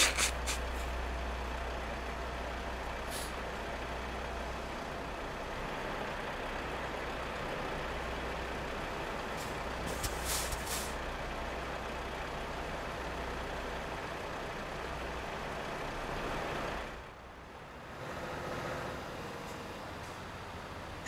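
Trucks in Euro Truck Simulator 2 drop their trailers, with engines idling in a steady low rumble, a few short air-brake hisses around the middle, and a brief dip followed by a lower, quieter idle near the end.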